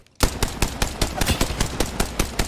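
Rapid automatic gunfire in the shooter game Apex Legends, a steady burst of about a dozen sharp close shots in even rhythm that starts abruptly after a brief silence, with no talking.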